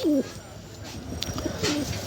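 Fantail pigeons coo twice in soft, low, rolling calls, close by, with faint background noise between them.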